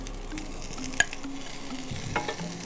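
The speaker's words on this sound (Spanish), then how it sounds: "Y yo aquí en mi grill voy a empezar a hacer mis verduras." Bell peppers and onion sizzling on a kitchen grill, a soft steady frying hiss with a sharp metallic tap and a later scrape of utensils.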